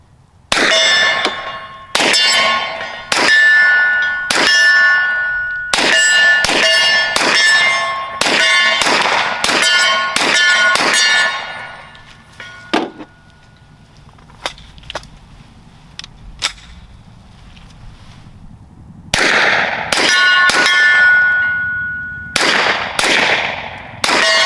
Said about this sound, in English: I'm going to shoot the plates before I shoot the table.